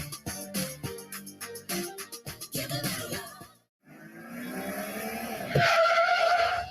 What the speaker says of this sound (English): Whoever just hit those brakes hard for no reason was definitely not you.